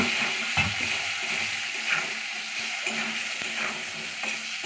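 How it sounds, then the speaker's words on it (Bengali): Sliced gatta, gram flour dumplings, fry lightly in a pan for a Rajasthani curry. A close, even sizzle is broken by a few stirring scrapes and clinks. "এইভাবে ভেজে নিতে হবে হালকা"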